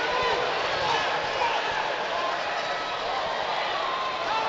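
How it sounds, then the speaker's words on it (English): Stadium crowd applauding during a football friendly between Brighton & Hove Albion and Rayo Vallecano, a steady broad wash of clapping and crowd noise that holds at an even level throughout. "Another round of applause for James Milner."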